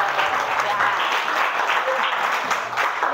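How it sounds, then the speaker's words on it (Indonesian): A classroom audience claps steadily and loudly for a few seconds, dense applause with no pauses. "tepuk tangan dulu buat Arida."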